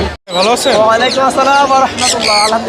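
Loud, close squawks and chirps come from birds and chicks crowded together at the Mirpur 1 bird market, a busy, continuous chatter with little break.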